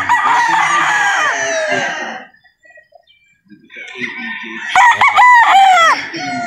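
A golden boy straight comb rooster at a game farm crows loudly and close by, with harsh clucking between two crowing bursts and a brief quiet gap in the middle.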